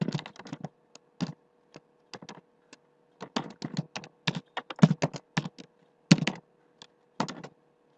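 Keys clatter on a computer keyboard as a MySQL command is typed, bursts of close, crisp taps in uneven runs with short pauses, no voices.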